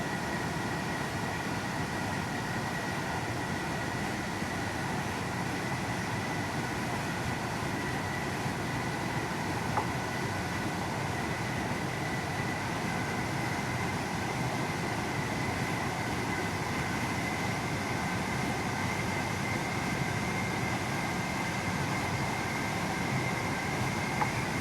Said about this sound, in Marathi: अरे यार, ट्रेनची स्पीड परत वाढली.